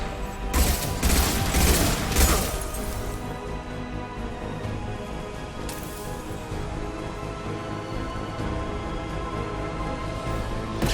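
Impact shots fire in the sci-fi shooter Mass Effect 2 as a quick cluster of loud, sharp bursts over about three seconds. One softer shot follows later, all set against a steady droning game backdrop.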